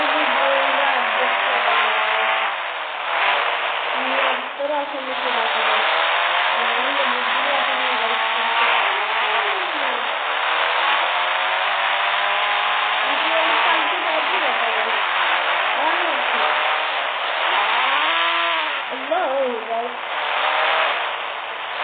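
Simulated motorbike engine in the Indian Bike Driving video game, a loud continuous droning whine that rises and falls as the throttle revs, close and steady throughout.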